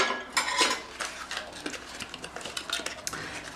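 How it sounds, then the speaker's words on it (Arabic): A spoon scrapes and taps against a dish while spreading a no-bake cake mixture, with short, repeated metallic scrapes and clinks at close range and some soft room noise. "هكا كنوزعوها بالملعقه مزيان"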